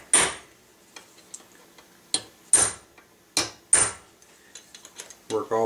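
Sharp metallic hammer taps on a nail being shaped into a pyramid point by a gunsmith, struck in separate clusters of two or three close, crisp blows with short quiet gaps between them.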